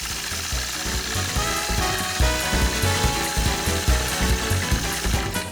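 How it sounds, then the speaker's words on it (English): Sewing machine quilting around a circle with a quilting ruler, a rapid mechanical stitching chatter with rhythmic ratcheting pulses, moderately loud and close, running continuously without speech. "I'll quilt around that circle"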